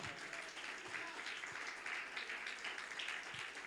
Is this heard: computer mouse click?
no